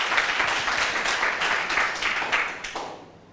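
Audience applause at a youth forum at Koumassi town hall, a dense burst of many people clapping that swells and then tapers off quickly near the end.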